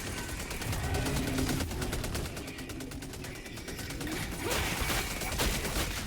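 Incoming gunfire in Helldivers 2 while holding an objective on a defended map: dense, continuous rattling bursts of automatic fire over a loud, busy battle bed, steady throughout without pauses.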